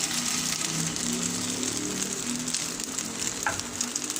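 Chicken pieces frying in a hot pan, giving a close, steady sizzle with a light crackle over a few seconds and no talking.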